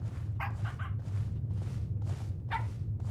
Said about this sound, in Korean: 여기 들어가면 강아지 소리 나거든